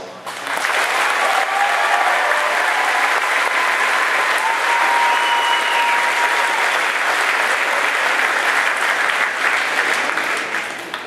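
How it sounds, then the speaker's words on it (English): A large crowd at a high school graduation ceremony gives the graduating class loud, sustained applause, with dense clapping holding steady for about ten seconds before easing slightly at the end. "I hope you guys can all congratulate them with a round of applause"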